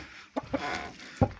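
A rooster clucks two or three short, close clucks, with a louder one near the end, over a quiet yard background.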